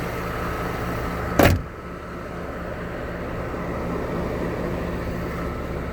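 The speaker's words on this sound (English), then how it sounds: "listen to the way this hood closes" A single solid thump of a 1994 Mercedes-Benz S600 hood shutting, sharp and close, followed by a steady low background hum.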